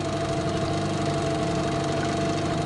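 A new Mikatsu 9.8 outboard boat motor idles during break-in, a steady, loud, close mechanical drone with even pulsing and no pauses throughout.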